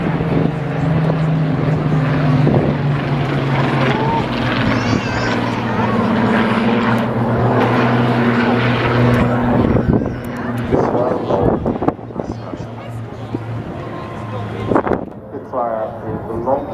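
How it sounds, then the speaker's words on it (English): A propeller aircraft of the memorial flight passes over the Blackpool Air Show, a loud, steady engine drone that fades later, with people talking over it. "Is the longest aircraft on Blackpool Memorial Flight."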